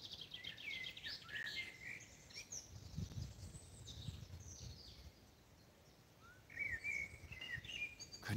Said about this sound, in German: Könnt ihr mal ein bisschen im Vogelkonzert lauschen?